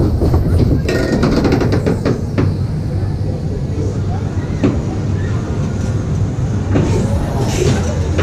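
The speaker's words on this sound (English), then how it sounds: "what a great mine train that was" Mine train kids' roller coaster ride at Scotland's Theme Park, with a loud, continuous rumble and clatter of the cars running along the track close by for the whole stretch.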